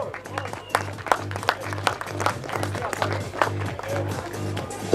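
Crowd applause for podium finishers at the Tanel Leok and friends motocross event in 2013, a dense spread of clapping with an announcer talking over it through a PA system.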